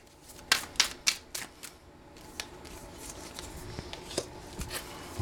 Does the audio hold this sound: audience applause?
no